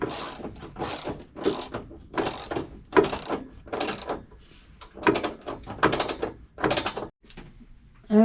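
A ratchet clicks in repeated bursts while tightening the bolts on Barricade tubular drop steps being fitted to a Jeep Gladiator, a dozen or so close, crisp ratcheting strokes with brief pauses between them.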